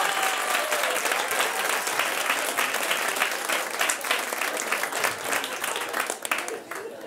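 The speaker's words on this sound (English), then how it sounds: "give him a big round of applause" A comedy show audience at a family stand-up performance breaks into loud, sustained applause, dense clapping filling the room continuously throughout.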